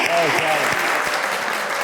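Studio audience at a talk show clapping in a steady, close wash of applause, with a voice speaking briefly over the start.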